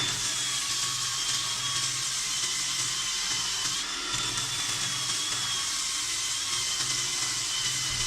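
Sandpaper on a turned wood piece spinning on a woodturning lathe gives a steady, broad hissing whine with a faint motor hum underneath, continuous and fairly close with no speech.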